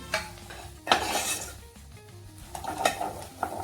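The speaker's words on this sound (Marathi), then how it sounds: "आता डाळीचं पीठ टाकून घेणार आहे" A spoon scrapes and clinks in a pan as gram flour is stirred into chicken frying in oil, with a soft sizzle underneath; a few sharp metallic strikes stand out over steady scraping, close up with no talking.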